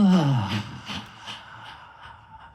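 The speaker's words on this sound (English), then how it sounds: "Nice, slow, deep breath." A slow, deep breath drawn in during a qigong routine, a breathy, airy inhale that begins with a brief voiced sound and then fades softly.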